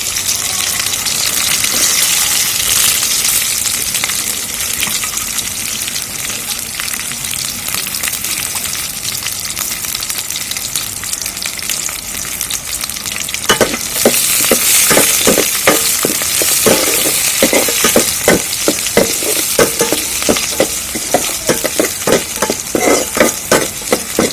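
A steady, loud sizzle of chopped small onions frying in oil in a pan, joined partway through by a rapid rhythmic scraping of stirring.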